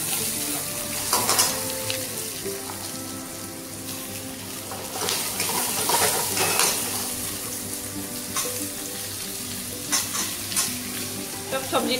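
Onions and mixed vegetables with capsicum fry in a pan, a steady close sizzle running throughout with intermittent scraping stir strokes and occasional louder clinks, no voices.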